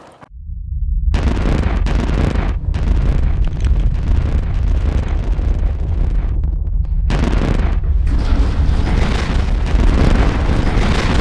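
Blasting explosion at a B2Gold gold mine: after a second of quiet, a loud, sudden boom breaks into a sustained roaring, rumbling blast with heavy wind noise lasting several seconds, then a second surge near the end.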